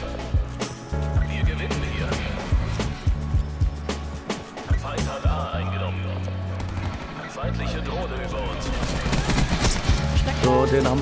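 Rapid gunfire from the Black Ops 4 video game, bursts of shots crackling repeatedly over a steady low rumble of game sound, with a voice talking in German now and then.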